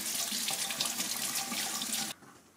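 Running tap water splashes steadily as the lid of a Dreame H11 Max cordless wet-dry floor cleaner is rinsed under a faucet, then cuts off abruptly near the end.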